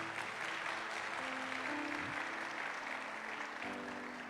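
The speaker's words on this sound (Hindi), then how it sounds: "खुदा के रूह के लिए जोरदार तालियां।" A church congregation at a Holy Spirit baptism service applauds loudly and steadily, a dense, sustained wash of clapping that fills the room and fades only slightly at the end.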